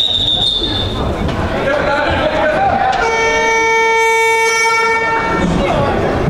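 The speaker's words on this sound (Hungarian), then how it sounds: "lejárt a játékidő, ezért a Duda" A long, loud electronic horn marks the end of playing time at a men's U23 handball league match in an indoor arena, sounding for about two seconds over crowd noise and a commentator's voice.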